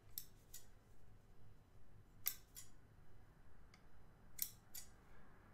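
Three pairs of crisp scissor snips cutting plumber's tape, evenly spaced with pauses between, close up over a low steady hum.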